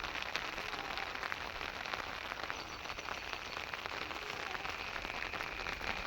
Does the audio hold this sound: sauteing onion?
no